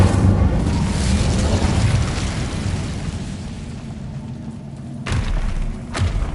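Incendio fire spell cast in the video game Hogwarts Legacy, a loud roaring burst of flame that gradually fades, followed by a couple of sharp magical cracks.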